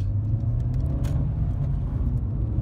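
A 2008 Seat Ibiza 1.4 Formula Sport heard from inside while driving, with a steady low engine and road rumble, moderately quiet and continuous with no talk.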